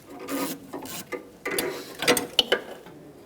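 A ratchet clicks as it backs a 10mm nut off the AC lines of a 2006-2011 Honda Civic, short bursts of rapid pawl clicking with small metallic taps, close and without talk.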